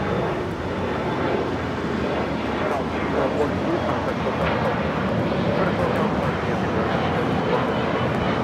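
An Emirates Airbus A380 flies near Los Angeles LAX, turning onto the downwind leg, giving a steady broad engine rumble, with people talking over it.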